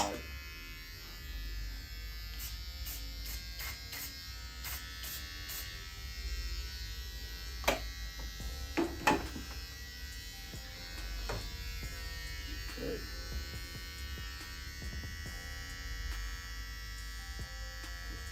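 A 3VERSINCE ES5 Black Diamond X-Pro wide hair clipper with a shallow-tooth blade runs with a steady, fairly quiet electric buzz throughout, broken by a few short clicks and handling taps partway through, with no talking.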